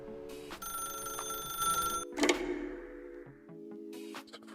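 A telephone rings in The Stanley Parable video game, with a steady electronic ring and scattered game sound effects and tones around it, moderately loud and without voices.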